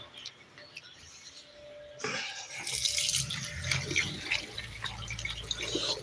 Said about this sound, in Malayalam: കൈയൊന്ന് ഒന്ന് കഴുകണം